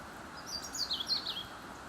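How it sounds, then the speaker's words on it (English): A robin sings from an alder tree beside a woodland trail, a faint, thin warbling phrase of high notes rising over steady outdoor background hiss. "we're also being serenaded by a robin,"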